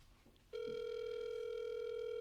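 An outgoing phone call rings out: after a brief quiet moment, a steady electronic ringback tone starts abruptly and holds loud and unbroken to the end.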